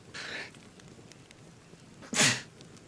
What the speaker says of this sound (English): Sorry, I had a sneeze there.